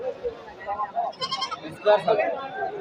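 Young goat kids bleating a few times at a goat market, thin and high, mixed with people talking nearby.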